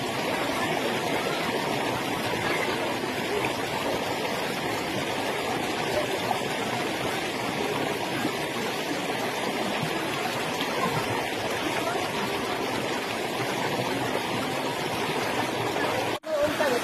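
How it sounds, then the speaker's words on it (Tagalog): Continuous rushing hiss of mountain spring water flowing on a trekking trail, steady and fairly loud throughout, with a brief knock near the end. "nandiyan po sa kabila yung bukal"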